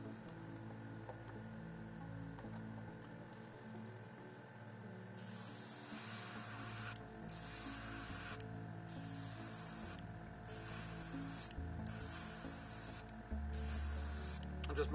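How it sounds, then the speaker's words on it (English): Airbrush spraying Scorch Brown base coat onto a miniature's cloak, a quiet steady hiss in repeated bursts separated by brief pauses. "I'm going to show you how I paint it with the airbrush"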